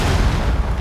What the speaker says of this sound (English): I got a hand grenade.